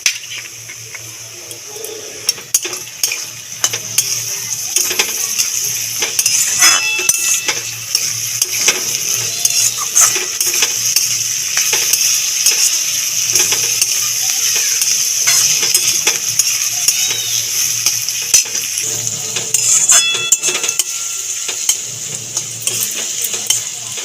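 Chopped vegetables and capsicum fry in a pan for a vegetarian sago pulao while being stirred, giving a steady close sizzle with repeated scraping and clinking of a spoon against the pan, no voices.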